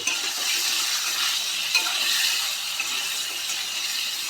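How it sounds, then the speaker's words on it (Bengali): Potatoes fry with turmeric in a hot pan, a steady bright sizzle that holds at an even level throughout, close and without talk. "হলুদ গুঁড়ো দিয়ে দেবো আলুগুলো আমরা লাল লাল করে ভেজে নেব"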